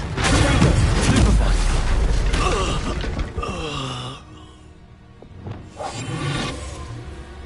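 A Confringo explosive spell in Hogwarts Legacy, a loud booming blast with whooshing debris that fades after about four seconds, followed by quieter rumbling game sounds, with a voice briefly heard.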